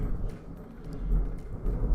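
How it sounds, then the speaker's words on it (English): Storm thunder rolls and rumbles low and heavy in a room indoors, a deep swelling grumble that surges toward the end without a sharp crack. "So we've got a storm."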